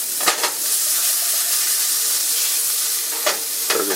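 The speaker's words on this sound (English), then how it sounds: "Burger's cooking up nicely." A bacon burger sizzling in a cast iron pan, a steady loud frying hiss throughout with a few brief scraping or stirring bursts near the start and end.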